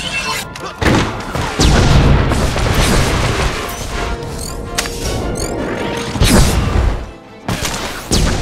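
Grenade explosions and heavy weapon blasts in the game Star Wars: The Old Republic, a loud, dense run of booms, crashes and rapid fire lasting throughout, with a few sharp bursts standing out.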